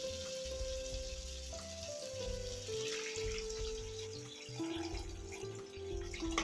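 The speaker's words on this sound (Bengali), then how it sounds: "এবার জল দিয়ে দেব," Water pours into a cooking pot of fried potatoes for a jackfruit and prawn dish, a continuous close gushing over sizzling whose tone shifts steadily as the pot fills.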